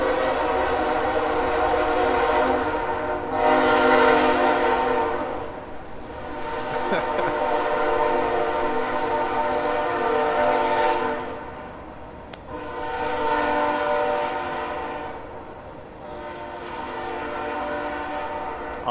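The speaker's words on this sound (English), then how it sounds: "a fucking train goes" A freight or passenger train passes through Camdenton near Lake of the Ozarks, sounding long repeated horn blasts in several surges over a steady rolling rumble, loud and nearby throughout the nineteen seconds.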